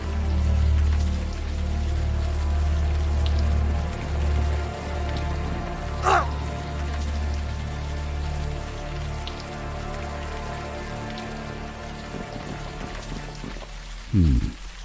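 Steady rain falls outdoors in the adventure game Unavowed, a dense continuous patter of drops on surfaces, loud and close, with a brief sharp tone midway and a low thud near the end.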